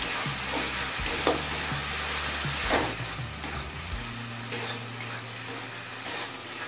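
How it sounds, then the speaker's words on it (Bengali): Ginger garlic paste, heavier on garlic, sizzles in hot oil in a pan while being stirred, with a steady frying hiss broken by scraping strokes of the spoon, close and clear without talk. "আদা রসুনটা দিয়ে মিনিট 2-3 কষিয়ে নিলাম।"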